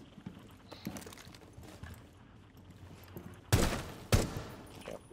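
Gunfire aimed at a security camera in Rainbow Six Siege: two sharp, loud shots crack out close together near the end, following a stretch of quieter ambient game noise with faint clicks.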